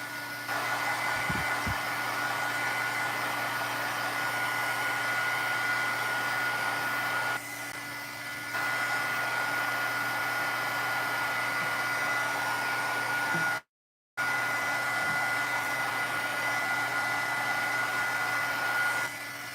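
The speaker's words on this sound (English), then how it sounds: "I'm going to go ahead and actually hit it with a heat gun again" A heat gun dries a freshly stamped papercraft card with a steady, loud, even blowing whir. It drops out once, very briefly, near the end and then resumes. No voices are heard.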